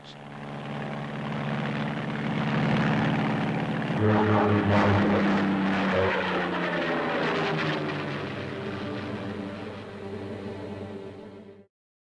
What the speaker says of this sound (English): In action, the darting tail-first Ascender seems to fly backwards.